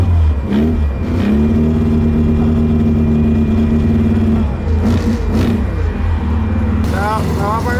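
A first-generation Mazda RX-7 engine runs and revs steadily throughout, loud and close, while people talk over it.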